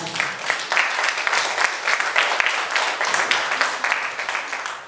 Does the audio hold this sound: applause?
yes